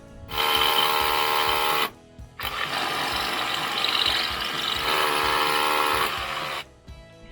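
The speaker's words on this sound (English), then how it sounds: "So I'm going to do a bit of drilling here." A power drill bores into timber during a staircase build, running in two sustained bursts with a short pause between them, loud and close with no talk.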